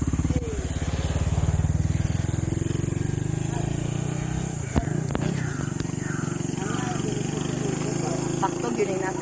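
Motorcycle engines drone steadily nearby, a rough low rumble with a brief louder burst midway, while people talk over it.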